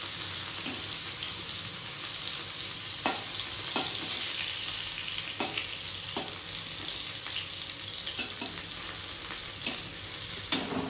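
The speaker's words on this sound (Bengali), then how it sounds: "পটল ভাজা হচ্ছে" Pointed gourd (potol) frying in a kadai, a steady close sizzle punctuated by regular spatula taps and scrapes as the pieces are stirred.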